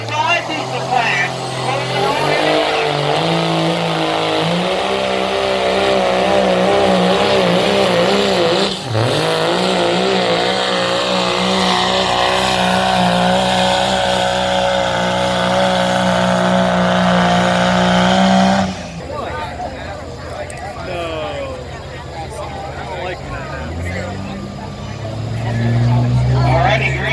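A modified 2.5 diesel pulling truck at a county fair truck pull roars loud and close, revving hard in a sustained drone before dropping off, with an announcer talking over it.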